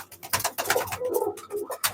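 A Kalinka pigeon coos in a breeding loft among other pigeons, a close, moderately loud run of soft throaty calls without pause.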